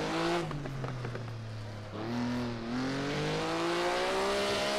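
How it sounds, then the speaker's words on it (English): Maserati 250F race car in a video game at Monaco, engine braking on downshifts: a loud, close exhaust note whose pitch drops steadily, with a brief dip and rev blip near the two-second mark before it climbs again, and no voices. "Trying to use that engine braking a bit to slow down, so I'm actually not getting too crazy with my rev matches."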